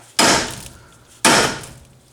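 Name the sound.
hammer striking rusted car suspension ball joint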